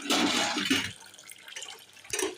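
Dishes are washed in a home kitchen under running water, with a loud, close gush of water that eases into lighter splashing and then surges again at the end.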